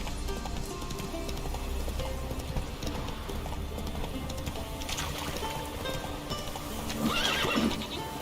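Roach, a horse in the video game The Witcher 3, gives a whinny near the end over a steady bed of ambient game noise, with soft hoof clops faintly audible as it walks.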